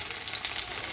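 Onion and garlic tempering in hot oil in a kadai for a mutton curry give a soft, continuous sizzling hiss at a moderate, close level.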